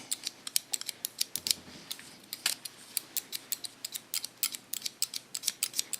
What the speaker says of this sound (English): The thickness of the upper layer I cut a little bit away.